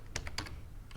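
A few quick, crisp computer keyboard keystrokes tap out in short bursts, close and clear, with no voices.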